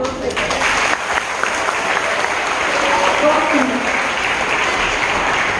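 An audience of schoolchildren at a Hindi Day school event applauding, a thick, continuous wash of clapping that holds steady at a fairly loud level, with faint voices mixed in underneath.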